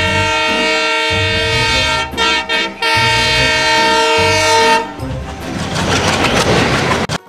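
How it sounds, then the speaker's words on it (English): A train blasts its horn in loud sustained tones broken by short gaps, over a low rumble, then gives way to a hissing rush of rolling noise near the end. "T for train."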